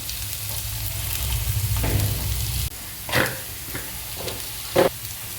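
Chopped ginger and garlic sizzle in hot oil with a loud, close frying hiss. It drops in level partway through, followed by a few sharp clinks and stirring scrapes.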